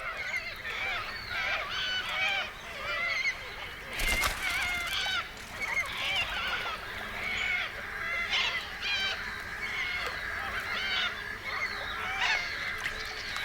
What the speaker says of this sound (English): Kangaroos often have to put up with noisy neighbors, the little corellas.